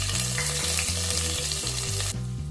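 Potato chunks frying with whole spices in oil as the base for chicken bhuna khichuri, a steady close sizzle with a low repeating hum and clatter underneath, running continuously with no voices.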